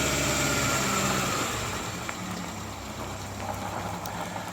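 A Volvo 345 engine running on three cylinders idles with a steady, uneven low rumble, close and fairly loud throughout, with no voices over it.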